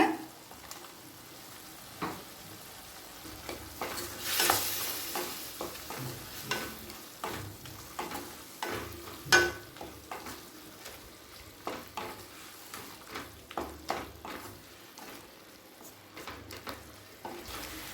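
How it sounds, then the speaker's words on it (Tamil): Mushrooms and capsicum stir-fry in a pan for a mushroom pepper fry, a steady low sizzle broken by frequent scraping and clattering stirs of the spatula, close up and irregular in rhythm, with no talking. "மஷ்ரூம்லேருந்து தண்ணீர் விடுற வரைக்கும் வதக்கிக்கலாங்க."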